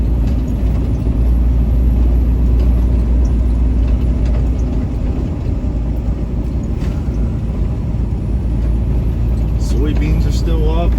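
Pickup truck tires rolling along a rural Pennsylvania road, heard as a steady, loud low road roar with engine hum that fills the whole stretch without a break.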